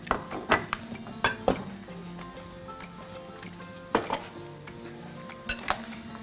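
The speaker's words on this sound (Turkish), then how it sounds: "Şimdi bunları güzel güzel Kadir una buluyor." Pieces of food dredged in seasoned flour beside a pan holding a finger's depth of cooking oil, heard as irregular sharp clinks and clatters of utensils and dishes over a low kitchen hum, with no talking.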